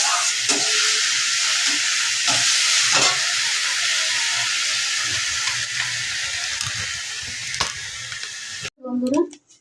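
Moong dal frying in a pan until reddish, a steady close sizzle with occasional stirring scrapes, before a brief clatter and a louder burst near the end.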